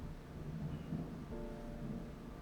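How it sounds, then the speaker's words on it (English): A long, rolling thunderclap in the video game Raincode, a low sustained rumble building steadily across the whole stretch, with a faint tonal hum from the game's backdrop beneath it and no voices. "that was a very long thunderclap"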